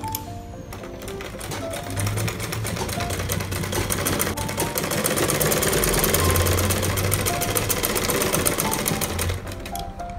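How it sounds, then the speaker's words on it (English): Sewing machine stitching the bottom seam of a layered Ankara fabric face mask, a fast steady mechanical rattle running close and continuous, with a hum of varying pitch underneath. "So I'll sew the bottom now."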